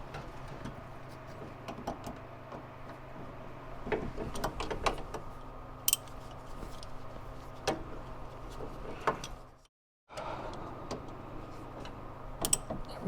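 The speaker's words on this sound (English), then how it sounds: "Let's see if the wrench will work now." A wrench works a bolt on the steering coupler (rag joint) of a C3 Corvette with a Chevy 5.7 engine, giving scattered close clicks and metallic clanks over a steady low hum, with a brief pause near the end.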